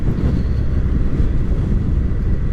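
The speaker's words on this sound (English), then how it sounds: "it's really windy today" Strong wind buffets the microphone outdoors beside a Triumph Rocket 3 motorcycle, a loud, continuous low roar with fluttering gusts and no voices.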